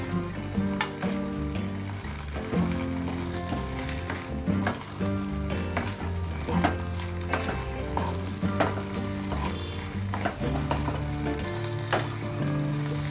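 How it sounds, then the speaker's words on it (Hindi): A semolina snack is tossed and mixed in a hot kadhai, giving a steady sizzle with repeated scraping and clanking stir strokes at an uneven rhythm, close and continuous with no talk. "अब हमने जो ये नाश्ता तैयार किया है उसे हम कढ़ाई में डाल देंगे और सभी को अच्छे से मिक्स कर लेंगे।"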